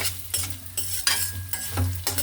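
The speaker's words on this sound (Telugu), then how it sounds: "కొబ్బరి నెయ్యిలో బాగా వేయిస్తాను." Food frying and sizzling in coconut ghee while being stirred, with repeated scraping strokes of a utensil against the pan over a steady sizzle.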